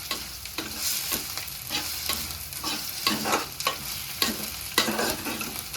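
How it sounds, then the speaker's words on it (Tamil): Onions and ginger-garlic paste sautéing in hot oil in a pan, a steady sizzle broken by rhythmic scraping strokes of a spatula roughly every half second, close by. "இஞ்சி பூண்டு பேஸ்ட் சேர்த்துக்கலாம். அதையும் சேர்த்து நல்லா வதக்கிக்கலாம்"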